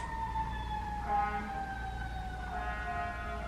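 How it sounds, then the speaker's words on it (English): A distant siren wails in rising and falling tones downtown, steady and moderately loud over a low background rumble of traffic. "do you guys hear those sirens?"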